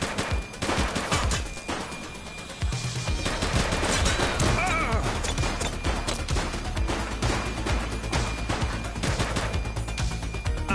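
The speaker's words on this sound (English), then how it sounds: "She's shooting!" Rapid, dense gunfire from a police shootout in the PS5 game The Precinct, loud cracking bursts and sustained automatic fire packed across the whole stretch, with occasional voices mixed underneath.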